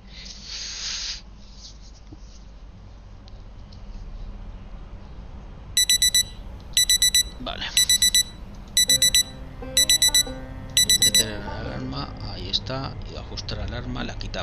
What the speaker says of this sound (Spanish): Reloj digital. Ajustar alarma. Seis de la mañana.